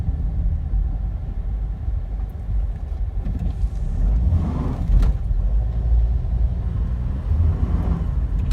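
A car drives through town traffic in Pensacola, its steady road rumble and engine noise continuous throughout, with a brief louder swell midway.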